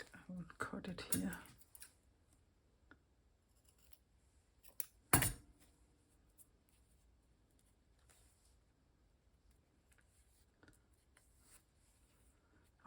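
Scissors snipping through fabric and paper for a hand-stitched collage, a quick burst of crisp cuts near the start and one sharp snip midway, close and quiet, with soft rustling and faint handling noises between.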